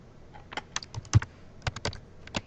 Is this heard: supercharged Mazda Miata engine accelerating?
no